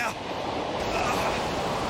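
A waterfall in an animated show roars as a continuous, dense rush of falling water, loud and close, with a hint of a voice underneath.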